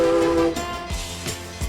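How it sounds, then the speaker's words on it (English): A Silverton narrow gauge steam train whistles at a street crossing, a short sustained whistle tone cutting off, followed by rhythmic chuffing and rail clatter nearby. "Whistles for each street crossing are answered by waves from townspeople all along the track."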